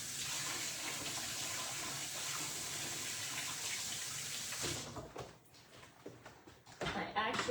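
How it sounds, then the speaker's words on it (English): Tap water runs steadily into a sink as hands are washed, a broad continuous splashing flow that breaks off partway through into scattered drips, knocks and shuffling. "I'm going to wash my hands and then we'll pop out the ones that are already cold."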